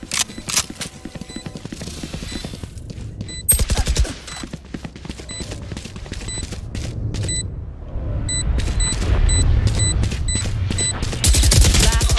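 Bursts of automatic gunfire in a tactical video game with teleporting abilities and a spike, sharp rapid shots in clusters with brief pauses, growing louder and denser toward the end.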